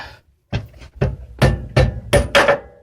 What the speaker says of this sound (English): so smack it until the bolt comes out